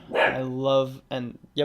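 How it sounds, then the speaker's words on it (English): A pet dog gives a few short barks and yips close by in a home, mixed with a man's brief speech between the barks. "that's my dog saying bye"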